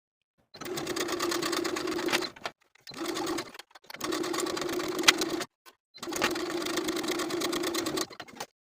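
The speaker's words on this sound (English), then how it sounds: "Then we'll sew these 3 layers together from one side to the other with a 1/2 inch seam allowance." A sewing machine stitches three fabric layers together along a half-inch seam for a women's top, running in four steady bursts of fast, even needle chatter with short silent pauses between them.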